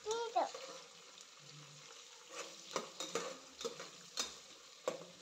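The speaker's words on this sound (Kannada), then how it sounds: "ಫ್ರೈ ಆಗ್ತಿದೆಯಲ್ಲ, ಆ ರೀತಿ ಫ್ರೈ ಮಾಡ್ಕೊಳ್ಳೋಣ." Fenugreek leaf pulao ingredients frying in a pan make a soft sizzle under several distinct stirring scrapes and clinks of a utensil against the pan, quiet and close.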